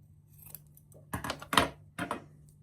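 Scissors snip through quilting fabric in three or four crisp, close cuts, each a short rasping crunch, with a faint click beforehand and a low steady hum underneath, no voices.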